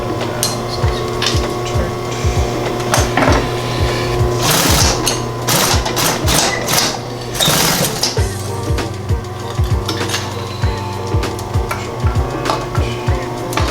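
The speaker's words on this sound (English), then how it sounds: "And then we're just going to sew down this tail here." Sewing machine stitching down the tail of a leather duffle bag, a steady loud mechanical whir and rapid needle clatter running almost continuously, with a few brief pauses and heavier knocking bursts midway.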